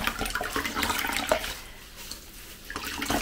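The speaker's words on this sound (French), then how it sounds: "on récupère la laine qui trempait, on les sort de façon à ce que ça ne goûte pas trop pour ne pas mettre d'eau partout" Soaked wool lifted out of a dye bath drips and splashes, with uneven watery trickles and small plops close by that fade toward the end.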